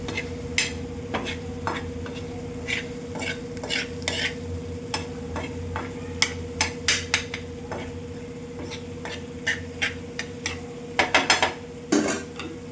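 A spatula stirs paneer into roasted masala on a hot tawa for paneer bhurji, making irregular scraping clicks and taps over a soft sizzle and a steady low hum, with no talking.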